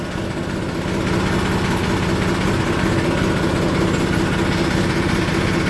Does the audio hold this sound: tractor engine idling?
yes